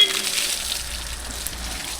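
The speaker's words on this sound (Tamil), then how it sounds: "அப்படி கொஞ்சம் தண்ணி ஊற்றி விடுமாப்பிள்ள மேலே" Water pours and splashes over a Mahindra Yuvo Tech Plus 585 4WD tractor outdoors, a brief, continuous hissing gush with a faint low rumble beneath.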